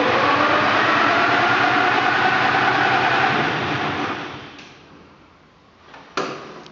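A John Deere 820 tractor engine cranks over with its fuel drained, a loud, rapid rhythmic churning that runs steadily for several seconds, then winds down and stops, followed by a couple of brief clunks.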